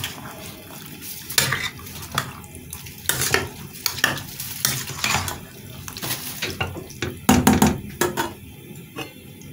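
Okra and lamb stew stirred in a pot brings repeated scraping and clattering strokes of a spoon against the metal over a soft bubbling simmer, rhythmic and close.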